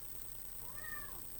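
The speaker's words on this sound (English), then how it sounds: "Meow." A single short, faint meow from a cat, rising and falling in pitch, over a quiet steady background hum.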